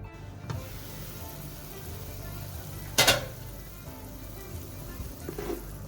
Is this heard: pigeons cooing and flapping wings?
no